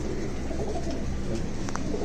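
Low, soft cooing of a pigeon against a steady background rumble, close by and continuous.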